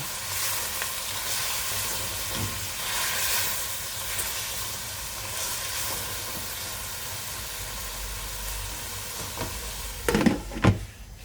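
Tomatoes and cabbage sautéing in a pan, a steady bright sizzle throughout, with a few louder scrapes and knocks of stirring toward the end, no talking.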